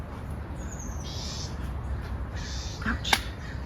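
A Bewick's wren calls from a backyard with giant oaks, giving faint, buzzy notes and thin whistles against a steady outdoor hiss. A sharp click comes near the end.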